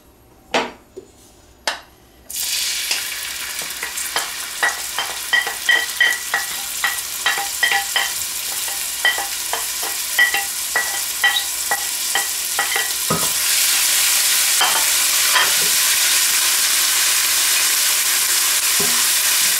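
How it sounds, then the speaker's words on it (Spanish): Chopped onion and garlic sizzling in olive oil in a pan, a spoon or spatula scraping and clicking in a steady rhythm over a constant hiss that grows louder and fuller toward the end. "Empezamos dorando la cebolla y el ajo y para eso ponemos aceite de oliva en la tartera"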